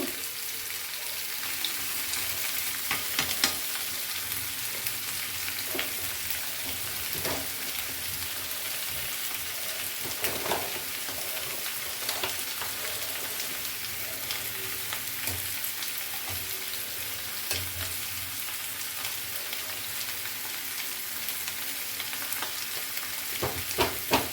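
Potatoes frying with turmeric in spiced oil in a pan for dhaba-style masala aloo, a continuous sizzle broken up by repeated scraping and stirring of the pan, fairly close with no voices.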